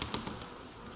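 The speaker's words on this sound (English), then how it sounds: "It's just got bees on it." Honeybees at an open hive during a colony split, a dense steady buzz of many insects close by, with brief louder swells as individual bees pass near.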